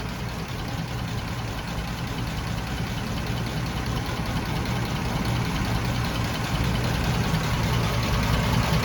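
A 1948 American LaFrance 700 Series V12 fire engine idles steadily with a low, rumbling drone and faint knocking, running continuously at an even level throughout.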